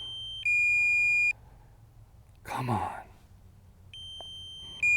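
A DJI Mavic 3 drone controller beeps in steady repeated tones during a low-battery flight, the alert pausing while a man sighs and mutters nearby, then sounding again.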